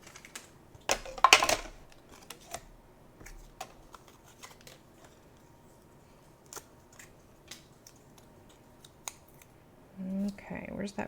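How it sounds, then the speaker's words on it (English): Scissors cut white cardstock in short, crisp snips, with one louder burst of cutting near the start and scattered clicks and paper handling after, close and quiet; brief talking is heard near the end. "We'll see if I can cut this one out straight."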